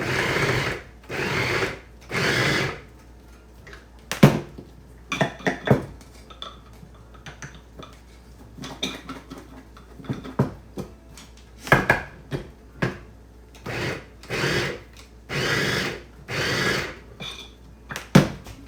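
An electric chopper whirring through onion and vegetables in a home kitchen, loud repeated short bursts of motor noise with brief pauses between pulses.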